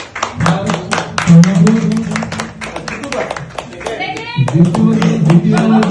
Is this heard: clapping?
yes